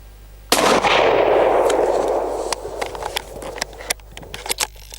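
An Anschutz 1770 .223 rifle fires once at a potato target outdoors, a loud sharp crack followed by a long rolling echo that fades over several seconds, trailed by scattered faint clicks and pops.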